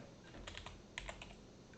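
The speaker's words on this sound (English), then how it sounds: "so here I'm just going to start typing recommendations" Brief, light typing on a computer keyboard, a few quick close clicks and key taps in an irregular rhythm over a faint room hiss.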